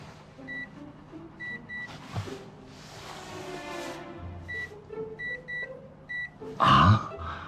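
An electronic door code lock keypad at a home entrance gives short, high beeps in quick clusters as digits are entered. The beeps come between soft handling noises and a louder clunk near the end.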